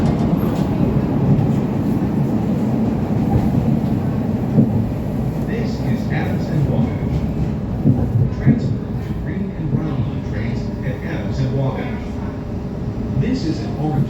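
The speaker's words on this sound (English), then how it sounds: "This is an orange line train to Midway." A Chicago CTA Orange Line train rides along the tracks, a loud continuous rumbling roar with rattling clicks and squeaks, while a recorded announcement voice speaks over it.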